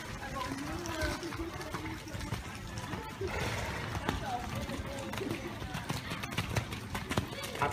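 Horses cantering in a dressage arena during a group riding test, with a continuous busy patter of hoofbeats and arena noise at moderate level throughout.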